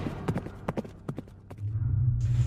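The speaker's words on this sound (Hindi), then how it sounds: "तभी एक बहुत सुंदर घोड़ा गाड़ी तेजी से आकर राजमहल के सामने आकर रुक गई।" Hooves clip-clop in a quick, uneven run as a horse-drawn carriage arrives fast before a royal palace, crisp close strikes ending in a low rumbling stop, in a cartoon setting.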